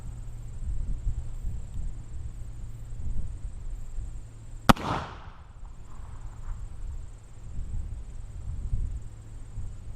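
A single sharp crack rings out as a charge of homemade gunpowder goes off, loud and close, with a short fading tail over a faint steady hum and background noise.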